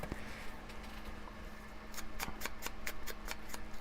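Small scissors trimming a paper tag, a quick run of crisp snips clustering in the latter half, close and fairly faint, with no speech.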